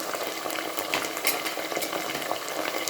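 Green chillies frying in a pan for veg khushka, a steady close sizzle with crackling pops and occasional stirring clinks throughout.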